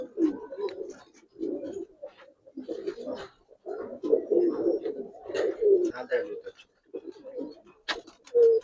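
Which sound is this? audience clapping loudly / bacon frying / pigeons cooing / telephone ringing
pigeons cooing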